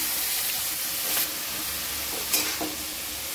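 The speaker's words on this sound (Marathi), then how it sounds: "आता आपण हे धुवून घेतलेली फुलगोबी याच्यात टाकून घ्यायची फोडणीमध्ये अशा पद्धतीने" Washed cauliflower drops into a hot spice tempering and sizzles steadily, with a few stirring scrapes and soft steam hiss at close range and no voices.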